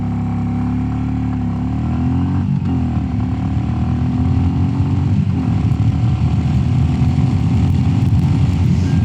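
A Royal Enfield Classic 350 fitted with a FuelX Lite and a DNA air filter accelerates hard. The engine thumps loud and close, rising in pitch through a few gear changes with brief dips between them.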